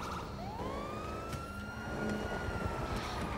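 A police car siren wails behind a car chase in the video game GTA 5, with a rising tone over a steady engine roar, heard at moderate distance.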